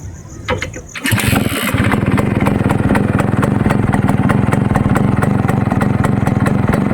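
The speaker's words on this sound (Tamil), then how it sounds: "இங்கே ஒரு கெக்கர் அடிக்கிற பாருங்க." A used single-owner Suzuki Max 100 motorcycle is kick-started. The engine catches on the first kick about a second in, then settles into a loud, steady, close-up idle.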